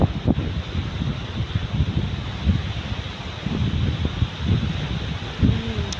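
Strong gusts buffet the microphone at a public beach, a continuous rough roar with uneven rumbling bursts throughout and a brief faint voice near the end.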